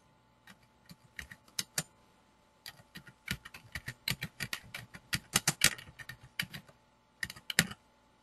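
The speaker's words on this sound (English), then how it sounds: "Start typing in my lettering." Lettering is typed on a computer keyboard, a close, dry series of irregular key clicks in quick bursts with short pauses between words, no voices present.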